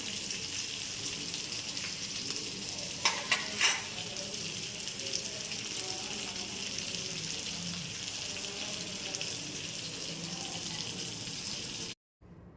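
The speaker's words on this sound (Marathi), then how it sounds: "इथे मी आता फ्राय करायला टाकलेले आहेत मासे" Fish frying in a pan, a steady crackling sizzle heard close, with a couple of brief clattering knocks early on and a sudden cutoff near the end.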